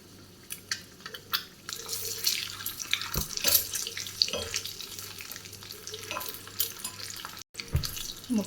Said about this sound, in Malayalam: നമ്മുടെ മുട്ട ഫ്രൈ ആയി വരുന്നുണ്ട്.